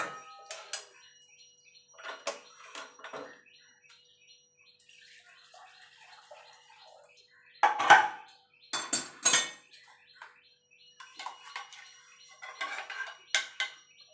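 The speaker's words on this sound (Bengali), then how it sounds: "দিয়ে ডালটাকে একটুখানি নাড়াচাড়া করে নেব" A utensil stirs boiled masoor (red lentil) dal into its tempering in a pan, giving scattered quiet clinks and scrapes in short irregular bursts with pauses between.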